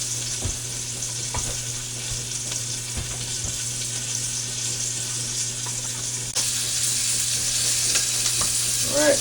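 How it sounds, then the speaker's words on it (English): Trout fry in butter in a 12-inch Lodge cast iron pan over medium-low heat, a steady, even sizzle running alone throughout. "Still sizzling quite well in that butter"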